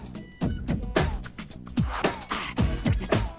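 A human voice mimics a drum machine beat, with punchy kick-like thumps and crisp snare-like bursts in a steady, tight rhythm, close and clear.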